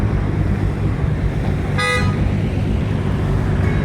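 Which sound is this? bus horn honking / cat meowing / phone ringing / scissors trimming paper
bus horn honking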